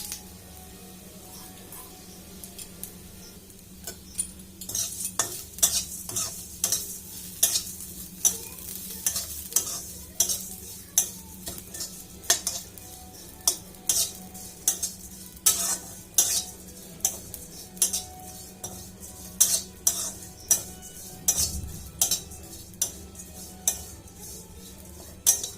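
Vermicelli roasting in hot ghee in a pan for seviyan kheer, stirred with a utensil: steady soft sizzling under repeated close scraping and tapping stirring strokes in an even rhythm.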